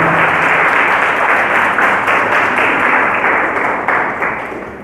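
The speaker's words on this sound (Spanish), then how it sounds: "damos un aplauso al Señor por su palabra" A church congregation applauding after a sermon, loud dense clapping that fills the space evenly and holds steady before gradually tapering off toward the end.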